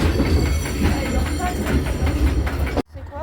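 Freight train rolling past at night, a loud, close, continuous rumble with rhythmic wheel clatter that cuts off abruptly near the end, with a brief voice under it.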